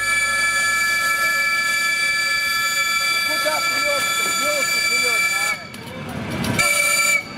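An ER2 electric multiple unit train runs past loudly with a steady rumble and hum of motors and wheels, short squeals and tonal whines, ending in a brief surge of rattling noise and a sharp toot.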